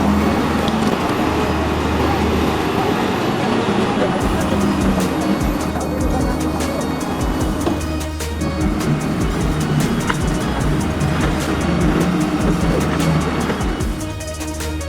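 A loaded Tata TC-1212 timber truck churns over wet ground, its heavy engine droning steadily beneath dense road and splashing noise throughout.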